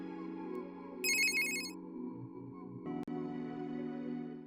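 Phone ringing in the game Steins;Gate 0: a melodic ringtone plays over a sustained tonal backdrop, with a brief burst of bright chiming notes and a sharp click near the end.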